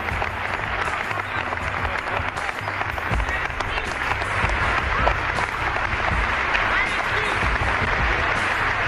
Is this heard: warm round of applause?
yes